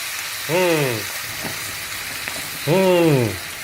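Steady sizzling and frying hiss as cream is added to a hot pan, with two short voiced sounds rising over it; no clear speech.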